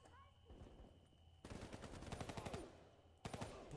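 Loud bursts of automatic gunfire in the video game Call of Duty Black Ops 3 follow a quieter opening, with a rapid rhythmic stream of shots and then a short fresh burst at the end.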